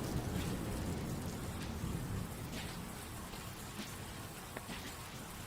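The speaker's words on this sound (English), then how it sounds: "Even the drizzle that clung to the city's grimy cobblestones felt a shade darker than your everyday downpour." Steady drizzle of rain on a city's cobblestone streets in a noir video game intro, a dense, even hiss of drops that holds at a low level throughout, with no voices.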